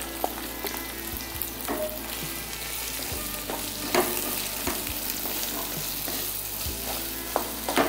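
Two sliced onions sautéing in a pan for pineapple chicken, a steady sizzle with occasional stirring clinks and scrapes, close and continuous, no talking.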